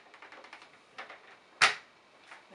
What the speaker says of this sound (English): There's the click.